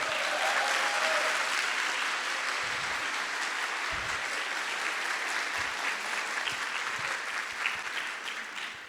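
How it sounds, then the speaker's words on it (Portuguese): Sustained, steady applause from an audience welcoming newly appointed court clerks at a São Paulo court of justice ceremony, dense and even for the full nine seconds. "Palmas para vocês."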